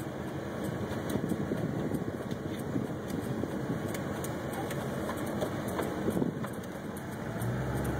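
A vehicle rolls slowly into a residential cul-de-sac at night, its engine a steady low rumble with road and fan noise running continuously and fairly close throughout.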